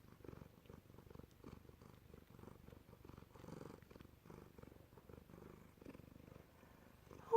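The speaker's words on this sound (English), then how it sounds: "Oh, why don't you purr for everyone?" A pet cat purrs close by in a steady, low rumbling rhythm that continues evenly for several seconds, soft and uninterrupted.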